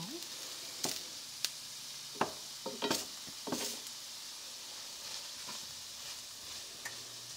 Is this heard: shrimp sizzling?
yes